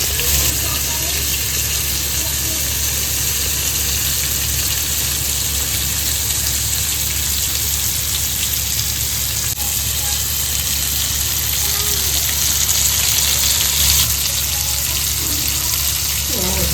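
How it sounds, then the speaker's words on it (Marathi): Barramundi fish pieces frying in a pan, a steady loud sizzle and crackle of hot oil running without pause throughout. "बघा आपली किरकिरी संपलेली आहे आणि आपला मस्त फ्राय झालेला आहे"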